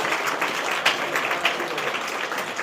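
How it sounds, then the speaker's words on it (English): Applause from a conference audience at DistrictCon 2025 honoring a presenter, a dense steady clatter of many hands clapping at moderate volume throughout, without a break. "So a round of applause for Nate, please."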